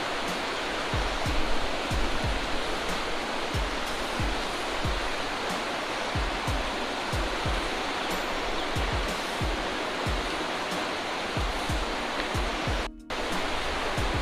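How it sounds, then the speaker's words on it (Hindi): A waterfall in an Indian Himalayan jungle roars in a steady, dense rush of falling water, close and loud without pause, with no voices over it. "राइट हैंड पर ये झरना है"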